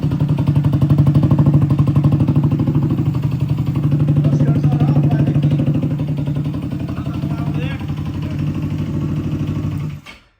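A car engine idles steadily right after an engine swap, a loud low rumble running continuously and close by before cutting off abruptly near the end.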